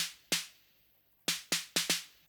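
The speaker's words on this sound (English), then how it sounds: "So just some kind of groovy snare hits there." Snappy 909-style snare hits in a deep house groove with automated delay, one isolated crack followed by a quick cluster of four, crisp and bright with no other sound between.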